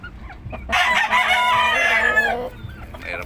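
A rooster crows once, loud and close, in a small backyard chicken coop where hens lay their first eggs at seven and a half months old, with soft clucks before and after the crow.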